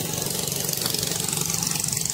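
A noisy motorcycle engine at a waterfall outing runs steadily close by, a loud continuous drone with a rapid pulsing rhythm and no talk.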